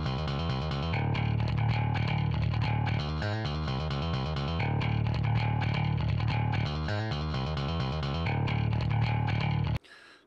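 A loud, gritty distorted bass riff plays steadily through an amp, chugging with a thick overdriven tone, then cuts off abruptly near the end.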